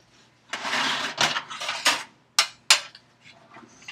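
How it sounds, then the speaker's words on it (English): Metal baking trays being pulled out in a kitchen, with a loose run of clattering scrapes and knocks followed by two sharp, close metallic clanks, then quiet; no one speaks. "you want to get your trays out"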